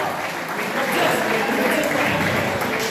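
Applause from a crowd at an honour ceremony, a steady dense patter of clapping with voices mixed in underneath.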